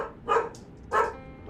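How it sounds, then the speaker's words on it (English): Dogs barking indoors, two distinct close barks about half a second apart with a faint yip between them. "Doggos! Not even the doggos are telling you to calm it."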